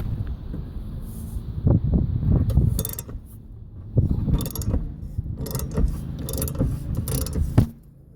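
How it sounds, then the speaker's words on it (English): A socket wrench ratchets and clanks while loosening a tight lawnmower blade bolt, giving irregular bursts of clicking and metallic knocks with brief pauses between efforts, close up. "Throw a socket on there and then crack it loose."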